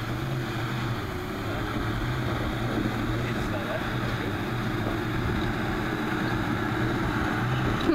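A diesel Toyota Hilux with an empty rear bed labours up a hill. Its engine makes a steady, low droning rumble that builds slightly toward the end.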